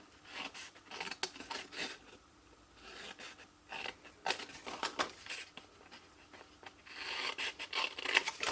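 Scissors cutting cardstock for a festive farmhouse gift bag, a run of close crisp snips and rasping slices in irregular bursts that grow busier toward the end.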